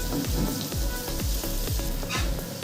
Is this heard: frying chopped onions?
yes